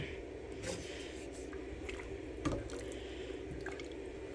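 Water poured into a pot of split pea soup on the stove, soft splashing and dripping with a gentle gurgle and one brief clunk, faint and close.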